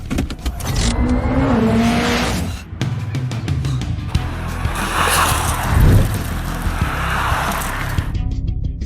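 A car speeds up a winding mountain road, its engine roaring loud and continuous with shifts in pitch and brief tire squeal through the bends, close and alone without talk.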